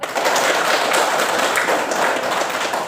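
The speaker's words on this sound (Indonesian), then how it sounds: "Tepuk tangan dulu." Classroom applause as a student comes forward to lead a song, with many hands clapping in a loud, continuous, even patter throughout.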